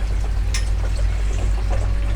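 Water flows back into a pond filter tube on a Tempest grow-on tank, a loud close steady pouring and trickling with low rushing underneath and no talking.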